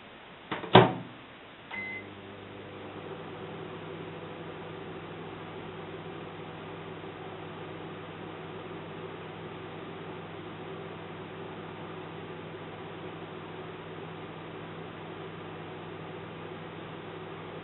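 A microwave oven with a Percy Pig Easter egg inside starts with a click and brief clatter, then settles into a steady, low electrical hum that runs on unbroken and quietly.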